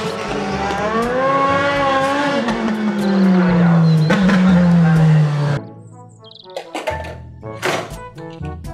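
A race car roars past with a falling engine pitch that sweeps down over several seconds, followed by a few sharp thunks and short tonal bursts after the engine noise drops away.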